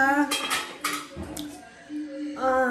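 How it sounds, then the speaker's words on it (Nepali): Dishes being washed in a home kitchen after the evening meal: pots, pans and cutlery clatter and clink in close bursts, with a brief pause in the middle. "भाँडा मोल्नेले मोल्दैछ"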